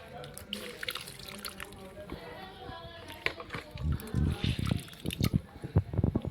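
Washed mushrooms are squeezed by hand to wring out water, giving close trickles, drips and splashy bursts that grow busier toward the end.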